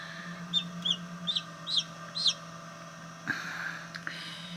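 A newly hatched chick peeps inside an incubator, giving a run of five short, high chirps in a slow, even rhythm, then a few fainter peeps over a steady low motor hum.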